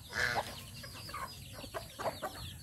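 A chicken at a cockfighting pen clucks several times in short, uneven bursts, fairly faint against steady background noise.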